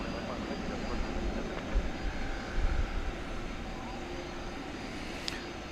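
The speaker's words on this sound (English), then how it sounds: "Moving into place for takeoff, you see there American 3136 going to Los Angeles. It's a 737-800." Boeing 737-800 jet airliner taxiing into position for takeoff at night at DFW Airport, a steady distant low engine rumble and whine holding level throughout.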